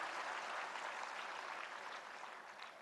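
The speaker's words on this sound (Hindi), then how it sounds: "एक बार जोरदार तालियां फूड प्रोसेसिंग के क्षेत्र में सभी स्टेक होल्डर्स के लिए।" A large audience applauds at the World Food India 2025 event in Bharat Mandapam, New Delhi, a dense, steady wash of clapping from a big hall that thins slightly toward the end.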